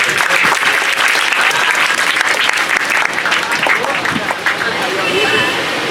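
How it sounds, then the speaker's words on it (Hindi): Loud, close audience applause at a school Teachers' Day celebration, sustained dense clapping throughout with crowd noise mixed in. "आप लोग थोड़ा जोरदार ताली बजाइए सर।"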